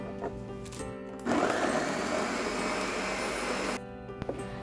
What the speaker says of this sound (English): Blend 15 Korean red peppers.